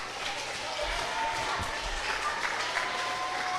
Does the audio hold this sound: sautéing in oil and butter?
no